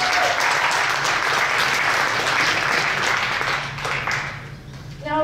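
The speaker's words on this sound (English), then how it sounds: "Round of applause." Audience applause at a high school benefit concert and talent show, a dense steady burst of clapping that thins out near the end.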